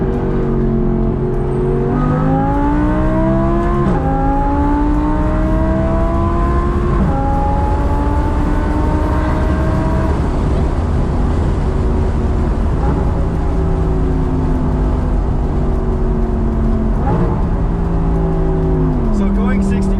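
An Audi R8 V10 engine revs hard through rising gear pulls, pitch climbing then dropping at each shift, loud and close, with people talking over it.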